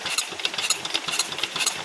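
A heavy Peter Dixon engine runs steadily, its rapid rhythmic chugging pulses close and even with no voices over it.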